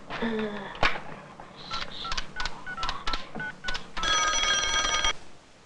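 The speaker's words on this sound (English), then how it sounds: "The number you have just dialed is not in service at this time." An old film's telephone scene: quick touch-tone dialing beeps in a rapid sequence, followed by a loud, sustained ringing of a telephone bell, with a voice speaking in between.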